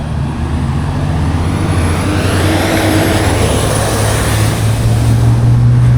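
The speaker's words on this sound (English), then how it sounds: "And that loud truck" A garbage truck without a muffler rumbles past nearby with a steady low engine drone, loud and continuous throughout, with no talking.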